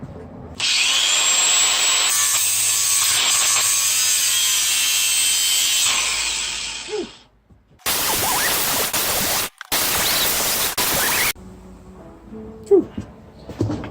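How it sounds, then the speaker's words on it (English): A power tool cuts through a weld on a mini bike frame, a loud, sustained grinding whine that runs for several seconds, then stops and restarts in short bursts before dying into quieter handling noises. "So I need to cut this weld back off and re-weld it"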